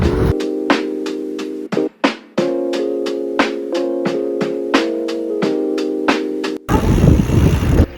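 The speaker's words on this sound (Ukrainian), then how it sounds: "Я чую якийсь потяг, зараз будемо знімати." A train passes near a forest, its steady harmonic drone sounding close and continuous, broken by a regular run of sharp clacks. A louder, rougher rush of noise takes over near the end.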